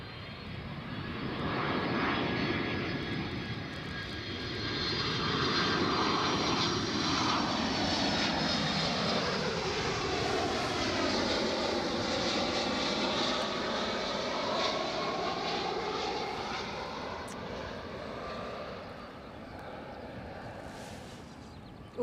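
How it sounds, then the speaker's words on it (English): An airliner lands at Edinburgh airport, its engine roar rising and sweeping past with a clear Doppler drop in pitch, loud and sustained, then easing as it rolls out, without any voices. "That was a heavy landing."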